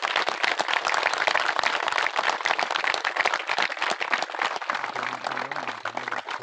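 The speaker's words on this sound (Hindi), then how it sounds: "मन लगा के जोरदार ताली बजा दो सगले अतिथियों के लिए।" Lively crowd applause greets guests at the opening of a village cricket tournament, a dense and steady patter of many hands clapping that stays loud from start to finish.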